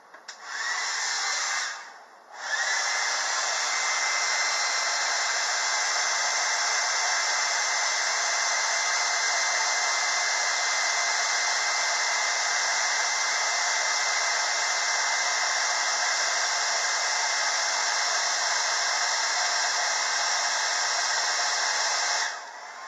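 A hair dryer blows hot air to dry acrylic paint on a painting, a loud steady whir that runs close and continuous, dipping briefly near the start before resuming for the rest.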